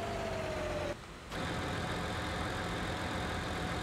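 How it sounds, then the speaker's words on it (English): A farm tractor idles close by at a silage clamp, giving a steady, loud mid-pitched engine rumble that drops out briefly and then resumes, with no talking. "The tractor was right next to us."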